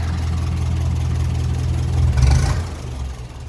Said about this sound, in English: So let's let that run out of petrol.